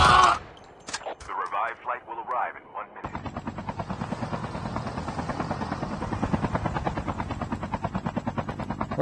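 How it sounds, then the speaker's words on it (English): Helicopter in the Call of Duty Mobile battle royale video game, a steady rotor chop filling the second half after a burst of game noise, under a player's voice. "we have a personal helicopter delivery man."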